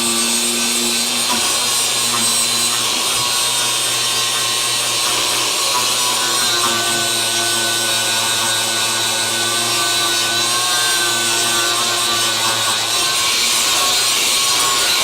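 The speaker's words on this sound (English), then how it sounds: "I'll go back over it with the sanding wheel in a second." A sanding wheel grinds car body primer with a loud, continuous abrasive sound and a steady motor hum, unbroken and close throughout.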